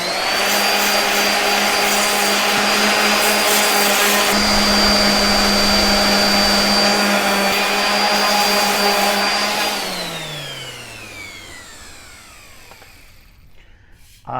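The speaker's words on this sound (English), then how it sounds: "I'm going to sand it down really well and see if the curl is even worth trying to come out." A powered sander with 80 grit paper works a pick axe handle, a loud, steady whine with a constant tone that winds down and fades after about ten seconds, with no talking.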